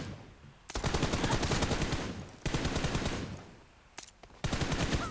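Rapid automatic gunfire from the PUBG Mobile video game comes in three loud, sustained bursts separated by short pauses, each a dense stream of sharp shots.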